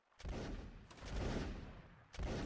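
Musket volleys from a Napoleonic Wars line-battle video game: two or three rolling bursts of massed gunfire crackle out one after another, fairly faint and distant in the mix, with no voices.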